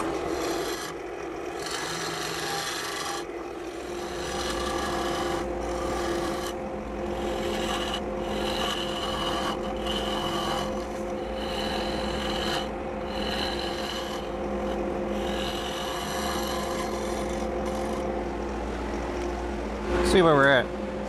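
A carbide tool cutting an oak and pourable plastic resin bowl on a lathe: a steady scraping, rasping hum with a spinning drone, continuing for the whole stretch and ending in a brief louder scrape.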